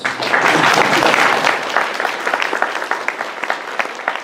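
Polite audience applause at a pony fan convention panel, a dense wash of many clapping hands that starts full and loud, then thins into scattered, uneven claps as it tapers off.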